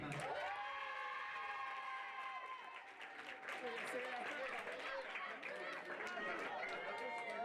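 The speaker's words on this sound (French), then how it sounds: "je vous demanderai d'applaudir Arthur Murat, il est 7e" Applause from a crowd at an outdoor pony eventing prize ceremony, steady clapping and cheering held at an even level throughout, with a voice over a loudspeaker speaking above it.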